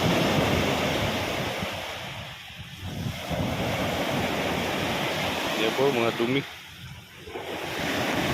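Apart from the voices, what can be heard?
waves of the flooded, brown sea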